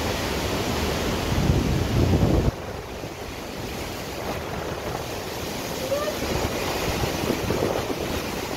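Strong, steady super typhoon wind in Camarines Norte, Philippines, roars across the microphone with a constant broadband rush, like surf, sustained throughout with no pauses.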